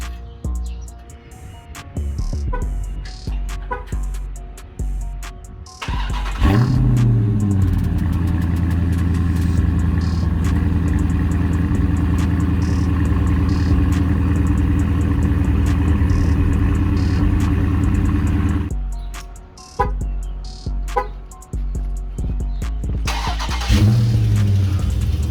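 A Dodge Scat Pack engine with its active exhaust deleted revs hard and holds a deep, rumbling roar for several seconds, with quieter idling and blips before and after.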